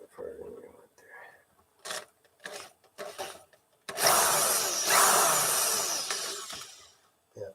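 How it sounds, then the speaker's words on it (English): Old cello neck being drilled to remove a dowel: a few short tool bursts between quiet talking, then a sustained harsh grinding run of about three seconds that tapers off. "We don't want to drill into the neck."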